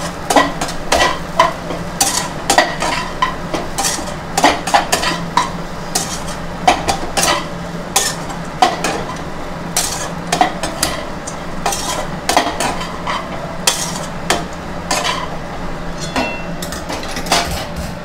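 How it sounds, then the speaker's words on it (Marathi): Poha being stirred and sautéed in a pan over a medium gas flame, with steady scraping and clinking of a spoon against the pan over a soft background sizzle, no talking. "पोहे चांगले परतून घ्यायचे"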